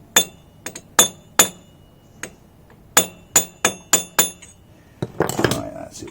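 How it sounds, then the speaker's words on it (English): A hammer strikes metal on a Fazer motorcycle in a series of sharp, ringing clinks at irregular intervals, close and loud, ending in a cluster of rattling clatter. "Always got a hammer to reach."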